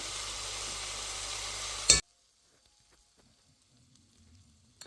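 Soya chunks frying with ginger garlic paste in a hot pan, a steady loud sizzle for about two seconds that cuts off abruptly, followed by near silence with faint scattered clinks.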